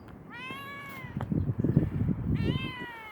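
A cat meows twice, clear drawn-out calls near the start and end, with rustling and handling noise in between.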